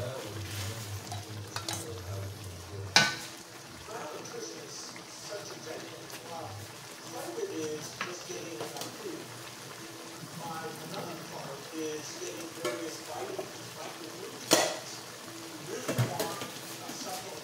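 Chicken with peas and carrots stir-fried in a pan gives a steady close sizzle broken by spatula scrapes and a few sharp clinks against the metal, with a voice speaking at times.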